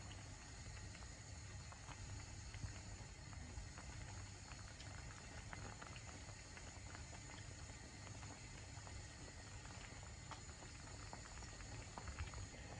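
A Kerala-style coconut fish curry boils in a pot, giving a faint, steady bubbling simmer with no voices.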